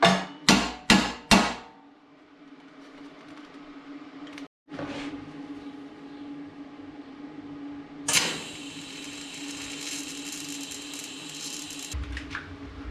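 A power steering reservoir bracket for an LS engine being tack welded: three or four sharp, loud metallic raps open, then a steady buzzing hiss with short bright crackling bursts, close and without talk.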